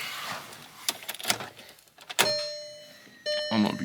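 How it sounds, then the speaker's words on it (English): Electric fuel pump priming in an MK6 VW GTI, a steady mechanical whine that comes in twice after a few door and handling clunks, close by. "Fuel pump's priming though"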